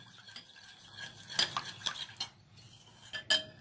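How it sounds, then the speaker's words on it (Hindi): A spoon stirs salt and sugar into warm liquid in a bowl, with soft swirling scrapes and a few sharp clinks of metal against the bowl, close and intermittent. "इसको हम अच्छे तरीके से मिक्स कर लेंगे कि चीनी इसके अंदर मिक्स हो जाए अच्छे तरीके से।"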